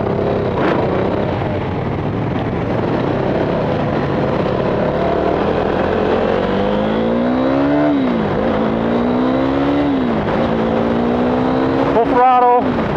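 A KTM Duke 390 motorcycle at full throttle on a racetrack at a vintage racing event. The single engine holds a loud, close drone, and its pitch sweeps up through the gears with dips at the shifts, ending in a sharp rising whine.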